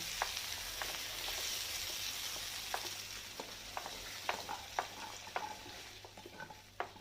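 Food frying in plenty of oil while being stirred, a steady close sizzle broken by sharp clacks of a utensil scraping the pan at an irregular pace.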